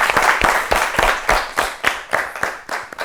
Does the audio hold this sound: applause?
yes